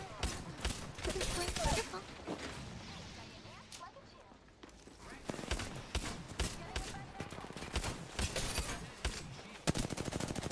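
Video game gunfire rattles in rapid automatic bursts and scattered single shots, loud and close, with people talking over the shooting throughout.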